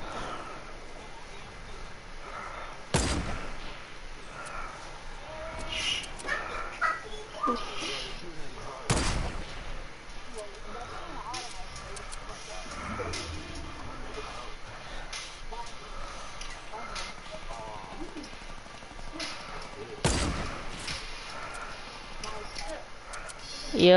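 Rockets exploding in Fortnite: a few sharp, loud blasts spread far apart over a busy bed of game noise and scattered gunfire, with a voice talking throughout.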